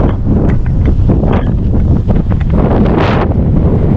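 Strong wind buffets the microphone in a loud, continuous roar, with gusts surging throughout and no voices.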